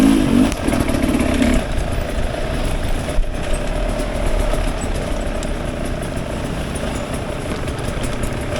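A Sherco 300 four-stroke trials motorcycle engine runs nearby, a loud, rough, steady idle with a brief burst at the start and no speech over it.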